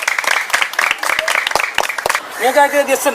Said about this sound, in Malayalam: ഒന്ന് കൈയടിക്കോ കാണുന്ന ആൾക്കാർ